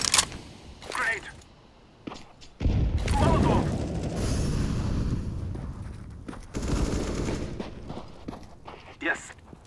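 In Counter-Strike: Global Offensive, a grenade goes off with a loud, close boom about a third of the way in, followed by sustained rumbling gunfire and sharp shots while voices talk over the action.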